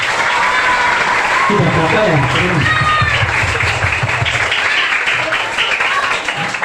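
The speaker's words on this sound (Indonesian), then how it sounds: "boleh tepuk tangan dulu" Schoolchildren and guests clap together at an elementary school Maulid Nabi celebration, a loud continuous burst of applause with a voice speaking briefly over it partway through.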